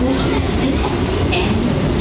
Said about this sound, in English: Just another day on the J train.